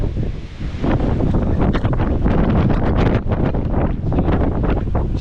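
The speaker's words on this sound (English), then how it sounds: "Just because the wind is so strong" Strong gusts batter the microphone on an outdoor walk, a loud, continuous roaring buffet that surges and dips without a break.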